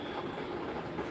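A train's brakes squeal in a steady, high, shrill whine over continuous rumbling rail and wheel noise, loud and close throughout.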